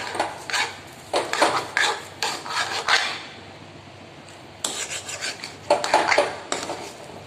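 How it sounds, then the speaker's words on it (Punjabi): Sugar is stirred into potato halwa in a kadhai with a metal spoon, making bursts of scraping and clinking strokes in uneven groups, with short pauses between them. "ਹੁਣ ਆਪਾਂ ਚੰਗੀ ਤਰ੍ਹਾਂ ਮਿਕਸ ਕਰਾਂਗੇ ਖੰਡ ਨੂੰ"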